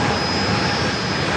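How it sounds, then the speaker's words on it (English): A United Airlines Boeing 737-900ER jet roars at San Diego airport, a dense, steady engine rush close by with a faint high whine riding on top. "This flight heading to Denver, 737-900ER, United Airlines flight"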